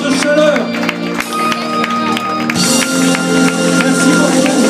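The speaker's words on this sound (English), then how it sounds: "merci pour votre applaudissement, pour vos applaudissements" Audience applause and cheering after a tribute band concert, loud close clapping from a crowd mixed with shouts and someone speaking French over a microphone.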